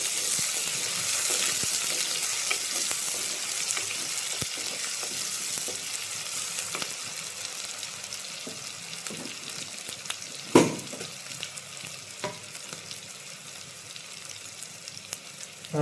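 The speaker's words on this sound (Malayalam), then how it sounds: "ഒന്ന് ഇളക്കാം." Shredded cabbage and crushed garlic frying in a pan for Kerala cabbage thoran, a steady sizzle with scraping stirs and a sharp clatter of the spoon near the middle.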